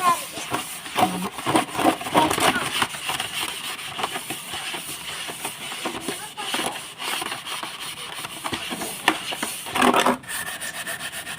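Cooking vessels being scrubbed with a dish scrubber, rough rasping strokes repeating in an uneven rhythm, close and fairly loud, while someone talks over the scrubbing.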